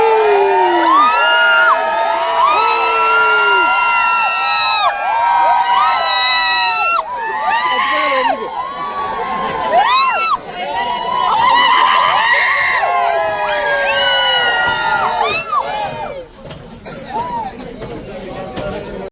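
An office group on a day out at a hidden castle shouts together to get the doors opened, a loud, sustained crowd roar of overlapping yells and whoops that swells and fades.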